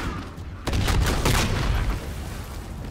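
Grenade blast in Call of Duty: Infinite Warfare, a sudden loud boom that cuts in partway through and rumbles on with heavy low crackling, fading slowly over the following seconds.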